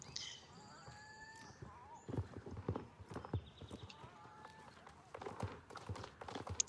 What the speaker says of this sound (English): Here we have a Frisian sport horse.